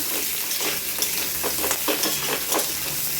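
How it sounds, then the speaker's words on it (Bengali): Oil crackles and sizzles steadily as potatoes fry, with a few soft scraping stirs and no talking. "আমি আলুটা ভালোভাবে ভেজে নিচ্ছি"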